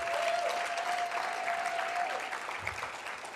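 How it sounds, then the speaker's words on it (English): A banquet audience at the 2014 Paralegal Cup formal dinner breaks into sustained, dense applause that fills the room, with a thin steady tone running through the first two seconds before the clapping thins slightly near the end. "I want everyone to give a round of applause to Fallon Burns"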